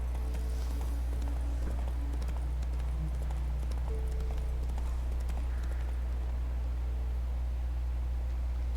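Roach, the horse in The Witcher 3, gallops with a steady clip-clop of hooves under a constant low hum and hiss of ambient game noise.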